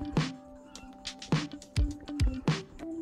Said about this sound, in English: I love the little chicken noises.